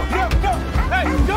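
A dog gives short whiny yips and soft barks in quick succession, close by, with a bit of voice in the background.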